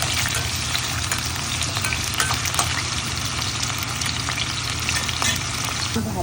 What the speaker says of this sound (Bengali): ভাজাতে দেখতে কি সুন্দর লাগতেছে।